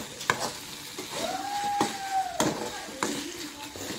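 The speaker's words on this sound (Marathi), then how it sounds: "चला आता भाजी आपण फुल गॅस करूया आणि जराशी ढवळून घेऊया." Vegetable bhaji with butter frying in a pan over full gas, a moderate sizzle broken by clacking stirring strokes and a short ringing metallic tone partway through.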